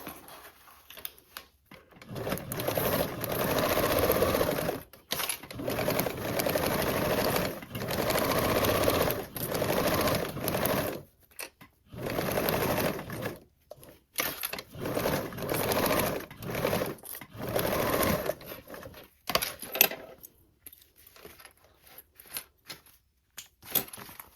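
A sewing machine stitches the sides and bottom of a fabric toiletry bag with an eighth-inch seam, running in long steady bursts broken by short pauses, close and loud with no talking.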